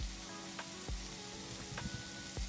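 Beef tenderloin cubes sear in a hot pan, making a steady, moderate sizzle broken by a few soft clicks and pops.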